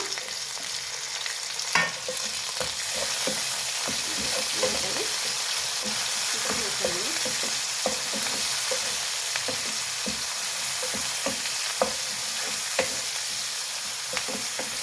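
Chopped onion and tomato sizzle and fry in a pan for buttermilk sambar, a steady broadband crackle running throughout with frequent sharp stirring clicks and scrapes, close and continuous with no talking.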